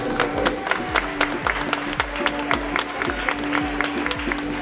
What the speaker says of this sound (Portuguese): Agora acontece o Porto da Rica para os vossos aplausos